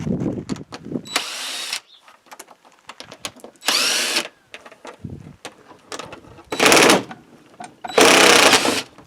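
A power drill spins out big bolts from the front fender area of a Kawasaki KRX during a Kemimoto fender flare install, giving four loud, sustained whirring bursts separated by quieter clicks and handling noises.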